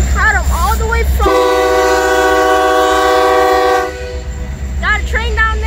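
FEC and BNSF trains meeting in Jacksonville, with a loud sustained horn blast lasting a few seconds over low rumbling engines and rolling cars, and people talking excitedly before and after.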